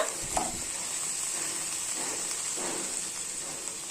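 Carrot, beans, potato and drumstick pieces for sambar being stirred and mixed in a pan, giving a steady soft sizzle and hiss with a few scraping stir sounds, close and continuous, no talking.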